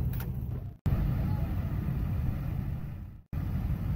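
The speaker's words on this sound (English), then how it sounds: "we're getting in our trucks and getting ready to pull through the gates." Trucks rumble at the gates of a swap meet as they pull through, a close, low engine drone with two abrupt breaks in the sound.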